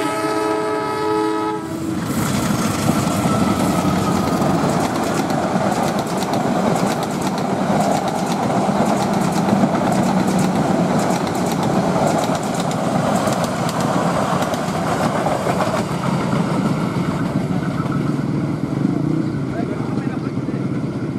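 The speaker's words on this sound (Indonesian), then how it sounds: "Kereta api Bengawan kelas ekonomi dari Pasar Senen ke Purwasari" The Bengawan economy-class passenger train from Pasar Senen to Purwasari rumbles past loudly and continuously near a bridge, a brief horn blast at the start giving way to a sustained roar of wheels and cars.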